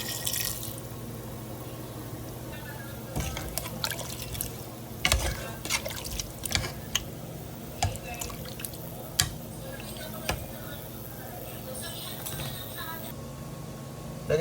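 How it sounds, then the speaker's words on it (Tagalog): Water pours into a pot of beef mechado with calamansi, set to boil: a steady running splash throughout, with irregular knocks and clatters of the pot and utensils close by. "Lagyan din natin ng tubig dahil pakukuluan natin siya."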